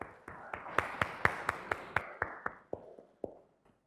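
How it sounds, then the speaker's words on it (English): A class in an accounting lecture claps in a sparse, slow rhythm of about fifteen distinct claps, close and moderately loud, tapering off and fading out toward the end. "we can have a clap for it"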